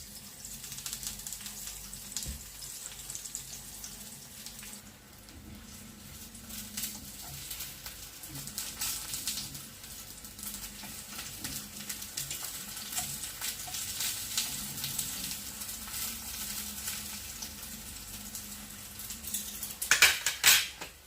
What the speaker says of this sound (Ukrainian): олія розігрілась, викладаємо баклажани і смажимо з обох сторін